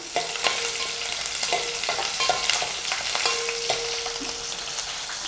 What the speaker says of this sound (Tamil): நம்ம கட் பண்ணி வச்சிருக்கக்கூடிய சாம்பார் வெங்காயத்தை அதில் போடுறேன் போட்டு நல்லா வதக்கலாம்